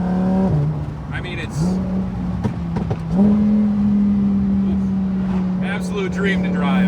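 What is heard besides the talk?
Lamborghini Huracan Evo engine and exhaust accelerating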